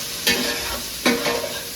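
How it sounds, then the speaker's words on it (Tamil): Onions sautéing in a pan for a home-cooked chicken dish, with two bursts of stirring and scraping over a steady low sizzle. "சரி வெங்காயம் போடுங்க. நல்லா பொன்னிறமா மாறணும்."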